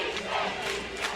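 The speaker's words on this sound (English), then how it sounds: "listen to this crowd" A high school football stadium crowd at a Marshall Mavericks versus Longview Lobos game roars in a sustained, dense wall of cheering, loud and unbroken for the whole second.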